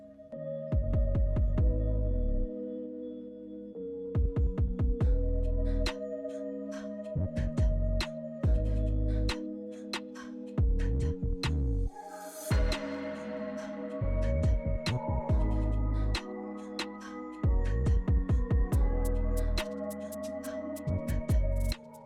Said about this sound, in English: Now we come in with our clipper all the way closed to create our ball line